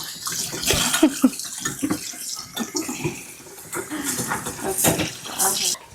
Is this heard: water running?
yes